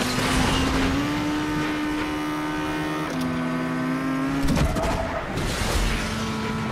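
A car racing in the Asphalt 9 video game: a loud, continuous engine drone with steady pitch held through gear changes, plus brief swooshes and bursts.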